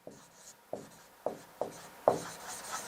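Chalk or marker writes on a board in a maths lesson, five or six short separate strokes spaced about half a second apart, close and fairly quiet, with no voice.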